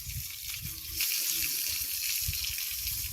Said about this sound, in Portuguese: Coloca água aqui para as galinhas